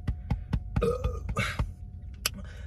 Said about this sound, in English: It be burping.